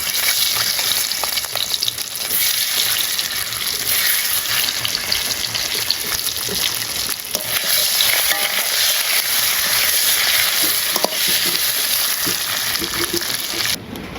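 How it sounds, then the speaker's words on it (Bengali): Eggs frying in hot oil, a loud steady sizzle and crackle that holds close and constant throughout, with faint scraping stirs and no talking. "ডিম দিয়ে দেই তেল গরম হয়ে গেছে"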